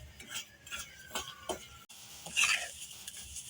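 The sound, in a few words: stirring and roasting semolina (suji) in a pan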